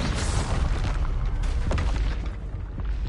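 A Confringo fire spell explodes in the video game Hogwarts Legacy, giving a loud, sustained booming blast with rumbling crackle that fills the whole moment before easing slightly at the end.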